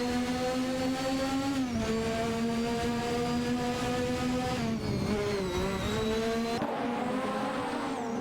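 Zakspeed 881 race cars scream through a racing video game, their engine notes steady and loud with gear-shift pitch drops, alone without talk.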